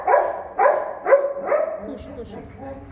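A dog at a free veterinary clinic barks close by in a run of four sharp barks at an even pace, then gives a few softer yips, with voices faintly in the background.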